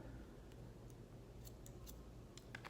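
Scissors snipping hair during a round layer haircut, a handful of light, crisp close clicks scattered over a faint steady hum.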